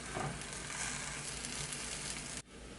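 Suegras frying on a hot comal, a steady, close crackling sizzle that carries on evenly and drops slightly near the end, with no talking.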